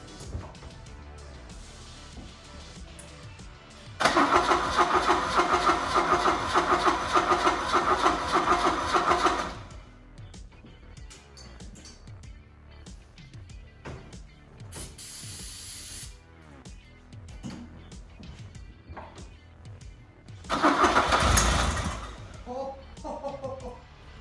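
A barn-find Fiat Spider engine cranks with a rapid ratcheting churn for several seconds, stops, then cranks again in a short loud burst near the end as it fires up.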